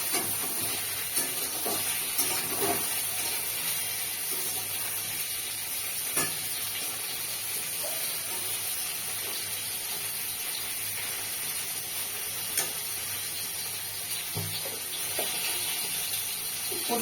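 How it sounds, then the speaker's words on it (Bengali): Pointed gourd (potol) frying in a pan gives a steady soft sizzle and hiss, with a few faint clicks of stirring, quiet and even throughout. "ভালো করে পটলটাকে ভেজে নিচ্ছি।"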